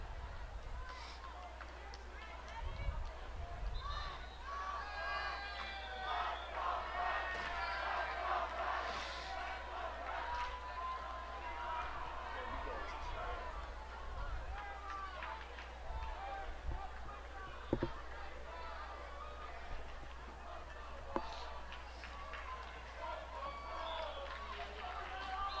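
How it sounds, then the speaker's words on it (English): A crowd at a girls' varsity soccer semi-final cheers and shouts in a rising, continuous murmur, with distant yells and calls spread across the field at moderate volume. "Looks like the crowds are heating up."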